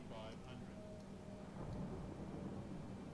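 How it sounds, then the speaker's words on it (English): A thunderstorm rolls in Microsoft Flight Simulator as a deep, continuous low rumble, building slightly louder midway and holding steady for about three seconds, with no clear voices. "Can you hear the thunderstorms?"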